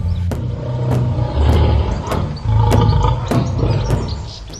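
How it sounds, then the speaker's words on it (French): A lion roars in a deep, rumbling growl that swells twice, with sharp rhythmic clicks and bird chirps around it in a forest setting. "un puissant lion sortit de la forêt et lutta avec Zanké"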